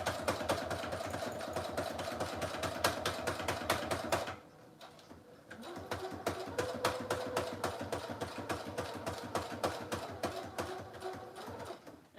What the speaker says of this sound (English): Then I'm going to sew around each circle just the best that I can.